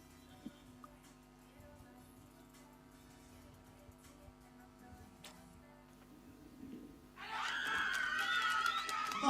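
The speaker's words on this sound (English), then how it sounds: "they've got the support of the crowd. We can hear that, trying to cheer their team on" Crowd at an African Archery Championship recurve final breaks into cheering and shouting for its team, starting after about seven seconds and swelling loud. Before that there is only a quiet murmuring background.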